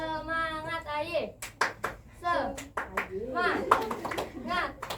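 During a classroom ice-breaker, a group of children claps out the Tepuk semangat pattern, crisp rhythmic claps woven between loud chanted words, opening with a drawn-out vocal call and closing with clustered claps and chanting.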